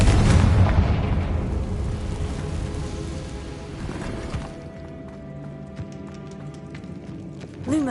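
A Confringo blasting spell erupts in a video game with a loud, broad burst that slowly rolls off into rumbling debris and fades to quieter ambience, with a small swell at the end.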